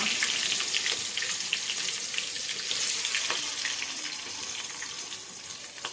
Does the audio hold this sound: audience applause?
no